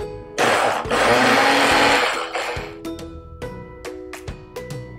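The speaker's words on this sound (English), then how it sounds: "we're going to give this a little bit of a blend and mix it all together" A blender whirs loudly as it purees a strawberry vinaigrette, a sustained motor roar that fades and then breaks into several short pulsed bursts with gaps between them.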